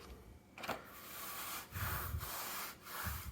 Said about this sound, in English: Pull the backing tape further.